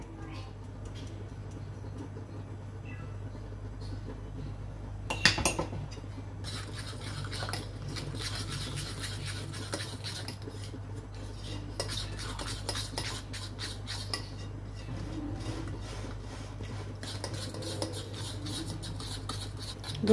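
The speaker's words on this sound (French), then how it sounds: "je rajoute encore un demi-verre à thé que je tamise" Sifted flour is stirred into an apple cake batter in a bowl, giving a steady run of scraping and clinking from the utensil against the dish over a low background hum.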